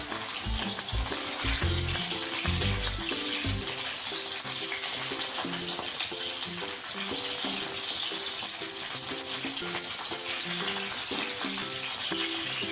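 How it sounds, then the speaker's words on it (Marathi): Green chillies fry in oil on a heated griddle, a dense, continuous loud sizzle and spatter heard up close, with a few stirring scrapes near the beginning. "मिरची चांगली फ्राय करणार आहोत तव्यावर"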